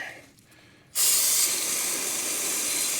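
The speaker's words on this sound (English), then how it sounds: "Let's try some brake cleaner." After a second of near quiet, an aerosol can of brake cleaner bursts into a loud, continuous hiss as it sprays engine parts during a 1949 engine swap prep, holding steady to the end.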